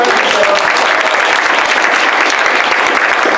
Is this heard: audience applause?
yes